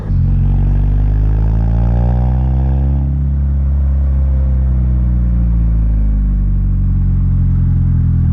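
Saab 9-3 Viggen with a big turbo, its engine and exhaust giving a loud, throaty rev that climbs and then settles into a steady deep drone, with no talking.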